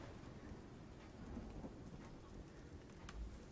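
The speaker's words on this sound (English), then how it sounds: "I like how the music stopped and we've just been listening to rain for a while." Steady rain pours through a livestream, with a low rumble of thunder rolling beneath the continuous hiss; no voices, moderately quiet throughout.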